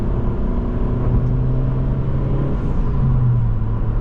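A 2025 Honda Civic Si with its 1.5-litre turbo engine pulls hard on a backroad, a loud, steady, close engine drone with a slowly rising tone and no voices.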